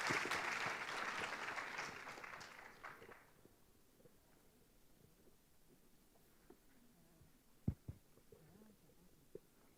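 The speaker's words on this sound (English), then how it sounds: "Please welcome the team with a big round of applause." An audience at a high school students' conference claps to welcome a student team presenting eco-friendly small wind turbine blades. The applause is fairly full for about three seconds, then fades into a quiet room with a few faint knocks and shuffles.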